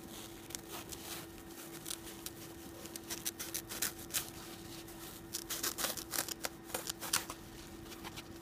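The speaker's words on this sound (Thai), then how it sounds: "ถ้าใครมีกรรไกรอ่ะกรรไกรตัดขนคิ้วอ่ะก็ใช้ตัวนั้นจะเวิร์กกว่านะเราก็ตัดขอบเลยค่ะ" Small scissors, such as eyebrow scissors, trim the edges of a homemade bread-slice squishy. Quiet, irregular snips and soft rustles grow denser toward the end over a steady low hum.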